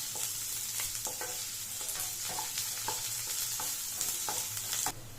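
Onions frying on a low flame for an egg masala gravy, an even sizzle punctuated by regular scraping strokes of a spoon against the pan, close and steady with no talking.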